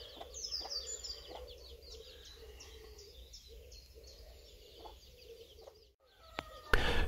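Soft, repeated clucking from a few hens in coops at a slight distance, with chirping birds in the background and a brief louder rustle near the end, near Hickling Broad.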